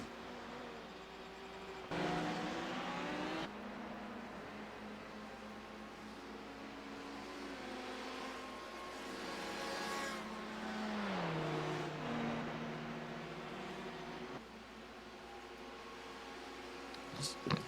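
GT race cars lapping at Le Mans in the iRacing sim, a sustained engine drone with rising and falling revs through gear changes, steady and moderately loud, with a commentator talking over it.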